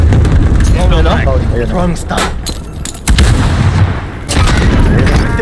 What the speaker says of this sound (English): Tatamaan ako ng airstrike ko.